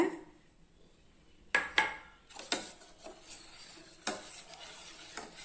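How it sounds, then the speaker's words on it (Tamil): A utensil scrapes and clinks against a pot in a few distinct strokes while country sugar is stirred into almond gum payasam, with quiet gaps between them. "நான் நாட்டு சர்க்கரை போட்டு கலந்துக்கிறேங்க"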